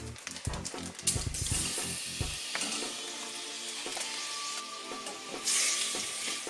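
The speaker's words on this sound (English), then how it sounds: "Then in goes a large knob of butter and some cooking oil. Then we can add our diced beef." Diced beef searing in a hot pan of melted butter and cooking oil, a loud continuous sizzle with crackling spits, preceded by a few thuds as the meat drops in.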